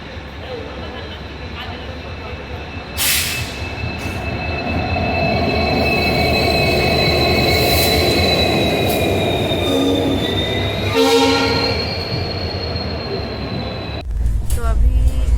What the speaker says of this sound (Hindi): अभी ये गुड्स का ट्रेन, इसको रोका हुआ है क्योंकि पराती एक्सप्रेस आने वाला है।